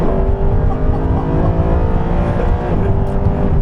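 Mercedes SLS Black Series engine pulling hard on an open road, a steady loud roar heard from inside the car with a rising tone and no break.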